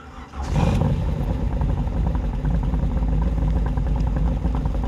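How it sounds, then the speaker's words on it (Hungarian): Car engine catches and settles into a steady, rumbling idle, close and fairly loud, with a brief burst of noise as it fires before the even, lumpy running continues alone. "ez az alapjárat"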